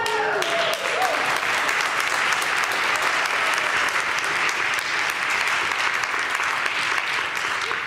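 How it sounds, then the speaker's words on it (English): A church congregation breaks into loud, sustained applause that fills the room, with a brief voice at the very start before the clapping takes over. "You clapped before I could give you the full amount"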